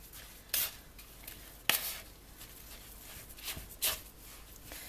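Brown sugar and oils are stirred together for a vanilla almond body scrub. Gritty scraping strokes of a utensil in a jar come as a few distinct swishes over quiet background, close and faint.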